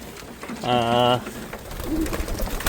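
A single short cooing call from a caged pigeon or dove, close by, over a steady murmur of background noise.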